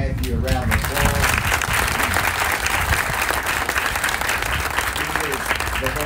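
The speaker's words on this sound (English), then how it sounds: "Give Matthew a round of applause" An audience applauds Speaker Matthew Shepard at a South Arkansas event with the governor, a sustained, dense wash of clapping from a crowd that holds steady throughout, with voices mixed in.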